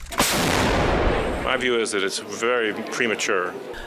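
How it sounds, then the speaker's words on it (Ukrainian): A single loud, heavy gunshot booms and rings out in a long decaying rumble, followed by someone talking. "Постріл!"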